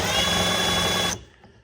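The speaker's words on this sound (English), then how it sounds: "So let's hit that with the impact" Impact wrench driving a 17mm nut onto a Bilstein front shock absorber on a Chrysler Crossfire, one continuous loud burst lasting about a second before cutting off abruptly into quiet.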